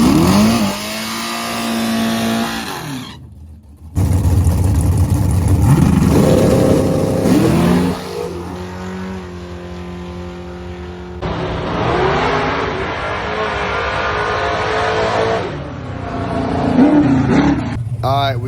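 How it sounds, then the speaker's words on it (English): A Bob Glidden tribute drag racing car accelerates hard down the strip, its engine roaring loud and close through rising revs with gear-change breaks, under continuous speech. "We got the Bob Glidden tribute car."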